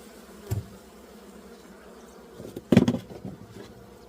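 Honeybees at an opened beehive buzz faintly in the background, broken by a short knock near the start and a louder cluster of bumps and handling noises later on.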